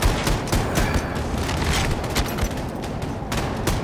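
Shooting in Wolfenstein II: The New Colossus: a loud, continuous barrage of rapid gunshots with heavy thuds that fills the whole stretch with dense, overlapping fire.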